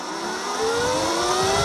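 A 72V Tuttio electric motorcycle accelerates hard on throttle, its motor whine rising steadily in pitch over a continuous roar of wind and road noise, loud and close throughout.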